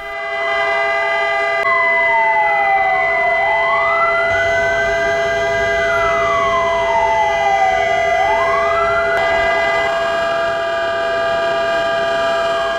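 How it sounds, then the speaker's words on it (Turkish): Loud sirens wail over Cumhuriyet Square in Erzincan during a memorial silence for Atatürk, several tones rising and falling in long overlapping sweeps with steady drones, continuous and dominant. "Cumhuriyet Meydanı'nda sirenler çaldı ve Erzincan halkı Mustafa Kemal Atatürk için saygı duruşunda"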